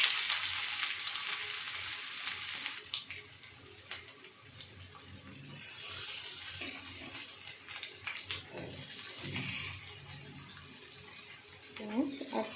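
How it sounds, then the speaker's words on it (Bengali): Chopped ginger, garlic and onion fry in hot oil in a home kitchen, a steady soft sizzle and crackle running throughout with occasional stirring scrapes, faint and close. "আদা রসুন কুচিটা ভালো করে লাল লাল হয়ে ভাজার পর দিয়ে দিলাম পেঁয়াজ কুচি।"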